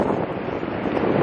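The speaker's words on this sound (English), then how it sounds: "Like windy here." Strong wind blasting across an outdoor microphone, a loud, continuous buffeting roar that swells slightly over a second, with no voices.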